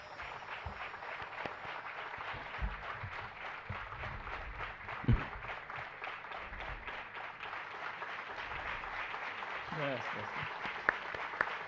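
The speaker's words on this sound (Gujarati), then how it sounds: "પોતપોતાની સીટ ઉપર ઊભા થઈ સંતોને નમન કરી અને તાળીઓના ગણગણાટથી વધાવીએ બધાને" An audience at a gurukul event applauds the saints with sustained, dense clapping from a large crowd. A voice speaks over it through a hall microphone.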